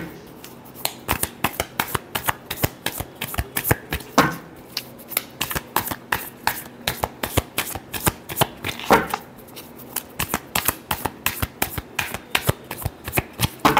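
Tarot cards being shuffled in a rapid, steady run of crisp riffling slaps that continues almost without pause. It is close and loud, with a couple of brief louder bursts partway through.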